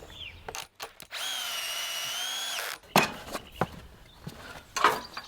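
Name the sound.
driving 100mm Volt screws into wooden frame corners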